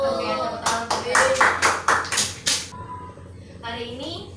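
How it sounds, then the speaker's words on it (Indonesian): Schoolchildren in a primary classroom clap hands together in a short burst of about seven quick claps, fairly close, with a voice speaking before and after. "tepuk tangan"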